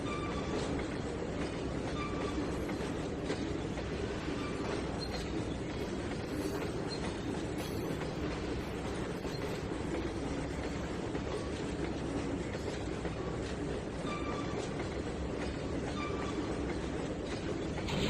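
A train rolls in within the Trainz 2019 railway simulator, its steady rumble and rhythmic wheel clatter holding at an even, loud level throughout, with faint flange squeals over the top and no talking.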